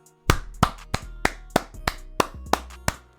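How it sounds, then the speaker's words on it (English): Applause from a small group breaks out in sharp, evenly spaced claps, roughly three per second, close and crisp with no voices over it. "Round of applause, man."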